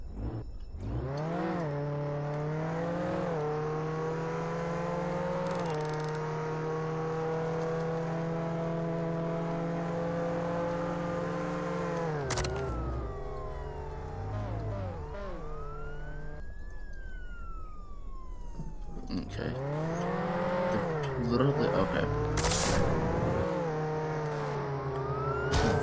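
A car driving in the Roblox game Jailbreak, with a steady engine drone that rises and falls as it accelerates, joined by a wailing police siren sweeping up and down, all loud and continuous with no talk.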